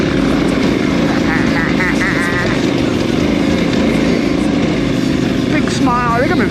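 Low, steady KTM 990 motorcycle engine lugging along in second gear at low revs throughout, loud and close, with speech over it.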